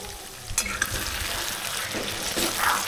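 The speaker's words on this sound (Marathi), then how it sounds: "मस्त पनीर याच्यामध्ये टाकल्याच्या नंतर याला चांगलं आपल्याला परतून घ्यायचं आहे." Paneer cubes stir-fried in masala in a pan for a paneer kaju curry, with a soft steady sizzle and scattered scraping clicks of a spatula stirring, fairly quiet and close.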